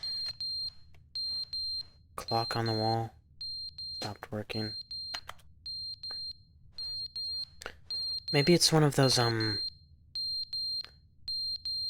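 A fire alarm in The Stanley Parable video game keeps ringing in short, repeating shrill bursts while someone talks over it in a few stretches, the tones continuing steadily between his phrases.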